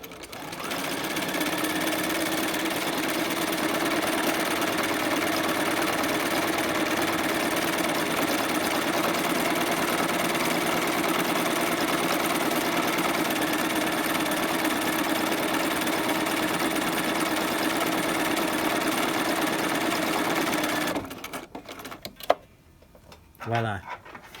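A sewing machine stitches a buttonhole in a steady, continuous whir with a short, slow stitch, running close and loud for about twenty seconds before stopping abruptly with a few small clicks.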